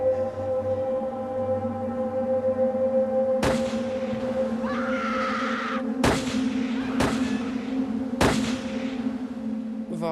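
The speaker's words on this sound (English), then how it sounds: "We heard shooting all the time." Repeated gunshots, four sharp loud cracks spaced irregularly over a steady humming drone, each shot with a short ringing decay, no voices.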